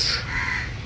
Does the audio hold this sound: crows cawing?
yes